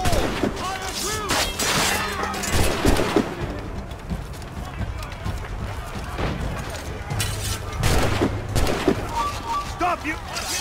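Battle gunfire in Assassin's Creed Rogue: loud, dense volleys of shots and crashing impacts recur throughout, close and chaotic, with shouted voices and clashing noise between the bursts.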